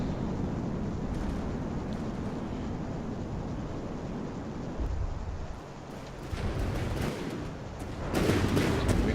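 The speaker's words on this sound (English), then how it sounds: "that's the Charlie squadron, their opening missile barrage" A video game space battle erupts as a squadron fires an opening missile barrage, producing a steady, dense rumble of explosions with brief louder bursts near the middle and a heavier swell at the end.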